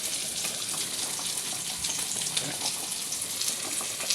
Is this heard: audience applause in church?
no